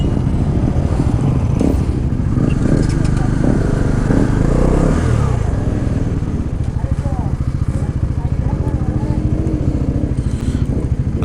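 Many motorcycles from a riding club on a hill ride near a temple, engines idling and revving close by with a rapid, pulsing exhaust throb, while people talk over the steady rumble.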